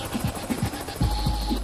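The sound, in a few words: helicopter flying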